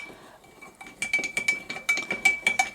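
Water and carob powder being stirred into a fake blood mixture, heard as a quick run of close, irregular clinks and scrapes of a utensil against the container, steady and fairly loud.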